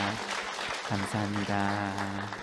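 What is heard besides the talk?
church congregation applauding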